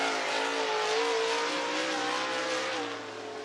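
A race car runs a qualifying lap at I-75 Raceway in Niota, Tennessee, its engine a sustained loud roar with a rising pitch that eases slightly near the end.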